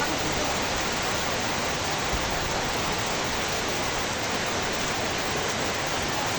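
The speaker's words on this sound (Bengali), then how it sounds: "অবশেষে রহমতের বৃষ্টি ভাই" Steady, dense hiss of heavy rain pouring down in Pabna district after a long dry spell, an even wash of sound with no gaps and no voices.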